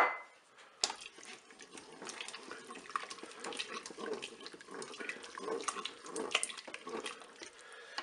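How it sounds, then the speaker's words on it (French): Spoon stirring crème fraîche into a runny chicken blanquette inside a Cookeo electric pressure cooker, giving wet, sloshing scrapes and clinks that run steadily and close up, fairly quiet, with no talking. "Je mélange."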